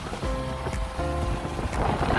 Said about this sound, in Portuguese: Eu acho que deve estar até ventando muito aí no áudio.